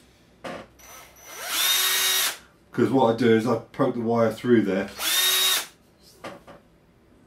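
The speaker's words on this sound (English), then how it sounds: "What I need to do though is drill a couple of holes" A power drill bores holes for a variable loading coil, with two whining bursts of about a second each, close and loud, while someone speaks between them.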